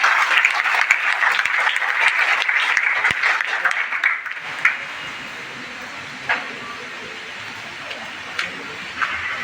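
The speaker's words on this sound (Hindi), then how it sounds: "जोरदार तालियों से स्वागत डॉक्टर जितेंद्र गुप्ता।" Loud audience applause welcoming Dr. Jitendra Gupta at a college lecture gathering, dense clapping for about four seconds before fading to a quieter room with a few scattered claps.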